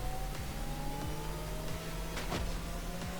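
Porsche Taycan electric car driving in the racing video game The Crew Motorfest, a steady synthetic electric-motor whine with rising and falling tones and a brief whooshing pass-by, no talk.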